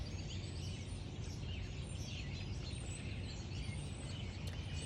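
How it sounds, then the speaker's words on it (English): Faint birdsong drifts through a southeastern US forest in Cherokee land over a steady low rumble of background noise; distant chirps, no voices. "Do you hear that bird song?"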